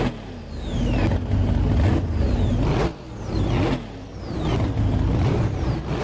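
Dom's car idling in the fourth Fast and the Furious movie, a deep, loud engine rumble that swells and dips in repeated waves of revving, close and steady with no voices.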